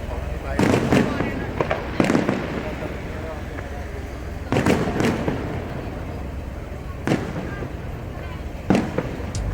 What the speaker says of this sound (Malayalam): അപ്പോൾ അവസാനഘട്ട വെടിക്കെട്ട് നമുക്ക് കാണാൻ വേണ്ടി പറ്റും കേട്ടോ.